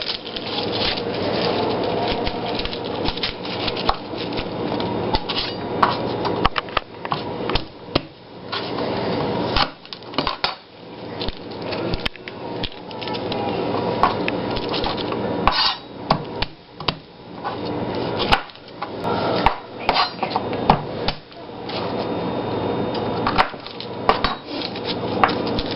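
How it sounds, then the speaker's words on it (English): Roughly half a head of garlic cloves being smashed on a cutting board while cooking shredded beef, with repeated close, sharp knocks and thuds in irregular clusters over steady kitchen background noise. "we're going to smash up some garlic, and I like a lot of garlic"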